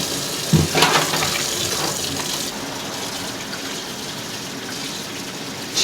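Tap water gushes steadily while grilled-eel fish is rinsed quickly by hand in a sink, with a brief splash and clatter near the start.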